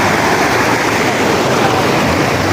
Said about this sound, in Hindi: बड़ा ज़्यादा पानी का बहाव है